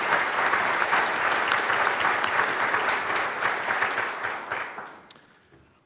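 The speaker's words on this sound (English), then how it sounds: "Let's give them all a round of applause." An audience at a regional transportation forum gives a dense round of applause that holds steady, then thins and fades away near the end.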